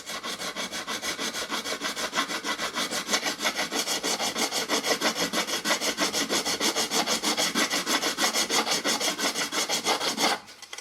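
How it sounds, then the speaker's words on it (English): Coarse sanding of the planked wooden hull of a Vanguard Models Fife Lady Eleanor ship model, a close, loud, rhythmic rasping of back-and-forth strokes repeating steadily before stopping near the end. "When we've finished, there should be no part of this that's not been sanded."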